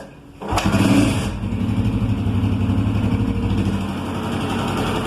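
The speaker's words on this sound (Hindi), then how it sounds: "अब हम बाइक को स्टार्ट करेंगे और इसका इंजन का साउंड भी चेक करेंगे" A Honda CG 125 motorcycle engine cranks and catches with a sharp burst, revs briefly, then settles into a steady close idle.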